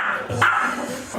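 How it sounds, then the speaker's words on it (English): A pet dog lets out a short bark or yip at home, one sharp burst in the middle of a brief stretch of background noise, fairly close and moderately loud. "he'll bark at you for ages"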